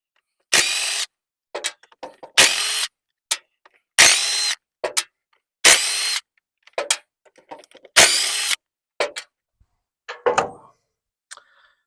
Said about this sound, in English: I'm going to go get my impact and pull this flange off